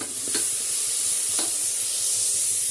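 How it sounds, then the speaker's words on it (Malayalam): Onions sauté in a hot cooker with a steady, close sizzle and hiss, broken by two brief scrapes of stirring, with no talking. "അപ്പോൾ നമ്മളെ ഉള്ളി ഏകദേശം വാടിക്കൊണ്ട് നിൽക്കുന്നുണ്ട്"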